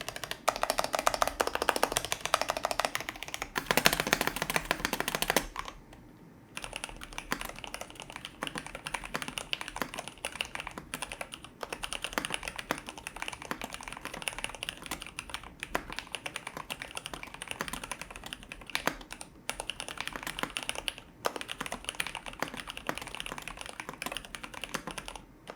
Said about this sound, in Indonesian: Dan buat kalian penasaran sama suaranya si Monokey Standard ini,